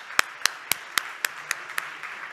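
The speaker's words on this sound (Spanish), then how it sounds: "Un aplauso a los tres" Sparse audience applause for three guests at a hospitality talk on direct table service: about eight separate, evenly spaced claps, crisp and fairly close, with a thin room murmur between them.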